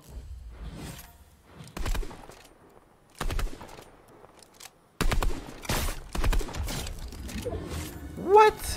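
Several sharp sniper rifle gunshot bursts crack out at irregular intervals in Fortnite audio, with a whooshing sweep and a rising tone near the end.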